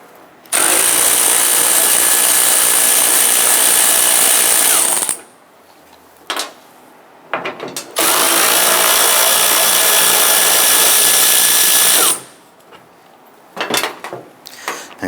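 Two 10mm bolts on a Nissan Frontier tailgate taillight being loosened and removed with a power tool, two long loud whirring bursts of several seconds each, separated by short clicks and handling knocks.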